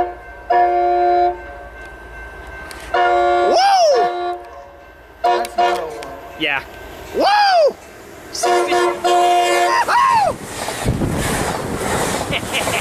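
An Amtrak Surfliner passenger train passes at a Poinsettia rail spot, sounding several loud horn blasts with a pitch drop on each, over a rushing roar; a voice briefly speaks.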